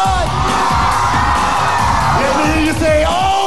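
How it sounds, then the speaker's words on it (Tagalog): A studio audience on a Filipino variety show shouts and whoops loudly together, a dense crowd roar that continues unbroken for a few seconds. "Gusto kong marinig ang malakas yung sigawan."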